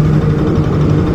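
A 2017 Bajaj Pulsar NS200 BS4 motorcycle engine runs steadily at close range, a constant low droning hum with no breaks, alone with no voices.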